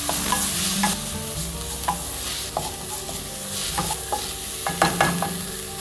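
Grated coconut dry-roasting in a pan, with a soft continuous sizzle and repeated scraping stir strokes of a spoon against the pan, close up with no talking.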